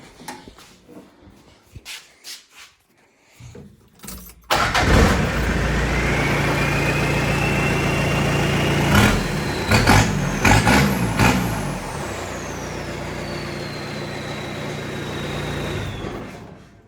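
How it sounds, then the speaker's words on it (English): A turbo diesel engine in an El Camino starts up after glow plugs and idles loudly and steadily, with a rising turbo whine that peaks and slowly fades while the engine keeps running. "This is the diesel sound, the turbo"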